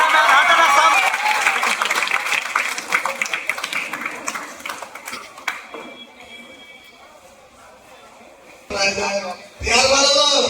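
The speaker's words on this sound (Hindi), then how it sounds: "बच्चों एक बार जोरदार तालियां।" Students at a Motion Education coaching class in Patna break into loud applause to welcome a guest teacher; the clapping fades away after about five seconds and people then start talking.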